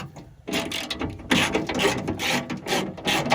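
A ratchet with a 10mm socket loosening the rear door glass bolts on a Chrysler 300 gives rapid, close-up clicking bursts in uneven runs with short pauses between strokes.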